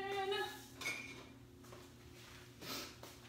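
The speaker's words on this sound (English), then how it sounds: "And let me grab a spoon." A spoon grabbed among dishes and cutlery in a kitchen, a few faint metallic clinks and rattles with a quiet pause between them.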